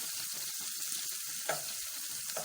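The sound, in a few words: onions frying in a pan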